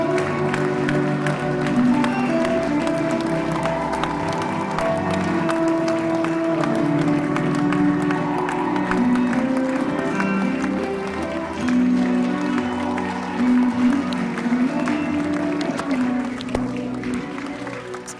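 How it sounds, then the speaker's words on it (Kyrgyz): A packed theatre audience keeps up long, sustained applause after a play ends, a dense, steady wash of clapping from many hands with faint cheering mixed in. "Айтор театрга толгон көрүүчүлөр спектакль аяктагандан кийин да көпкө чейин кол чаап,"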